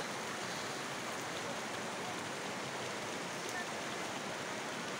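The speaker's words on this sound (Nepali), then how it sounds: "खोलाको आवाजले चाहिँ नि बोलेको त्यति राम्रोसँग सुनिँदैन होला।" A small river rushes steadily nearby, a continuous broadband wash of flowing water at a constant level for the whole stretch, with no talk over it.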